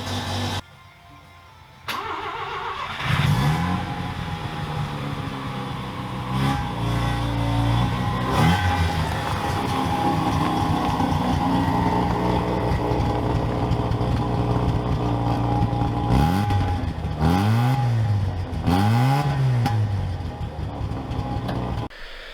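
A car engine starting and then idling roughly, with a steady mid-pitched rumble and a series of sharp revs rising and falling near the end, heard close and loud with no talking.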